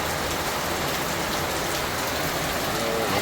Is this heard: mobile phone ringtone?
no